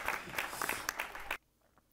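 Game crowd applause from the life-simulation video game Youtubers Life, a steady burst of clapping and cheering for about a second and a half that cuts off abruptly into near silence.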